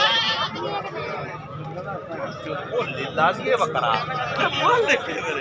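Goats bleat repeatedly at a crowded livestock market where goats are sold for Qurbani sacrifice, their calls rising over a steady hubbub of people talking and moving nearby.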